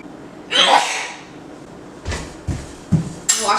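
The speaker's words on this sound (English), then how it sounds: "I always sneeze when I'm working with pepper." A single loud sneeze bursts out in a home kitchen while lemon pepper seasoning is being used for buttery salmon, followed by a few softer thumps and clatters of cooking utensils.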